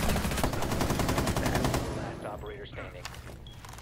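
Rapid automatic gunfire from a gun in the video game Rainbow Six Siege, loud and dense bursts for about two seconds, then fading to scattered quieter game sounds and faint voices.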